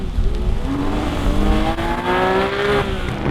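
Supercars including a Porsche 911 and a Vauxhall VXR8 accelerating hard in a wet drag race on a test track, with a loud rising engine whine climbing in pitch over rain and road spray, no talk.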